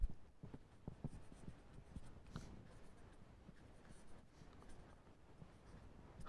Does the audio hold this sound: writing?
yes